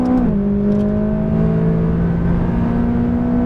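McLaren 570S engine pulling hard at close range, a loud steady roar that drops in pitch as a gear shift lands, then climbs gradually as the car accelerates again.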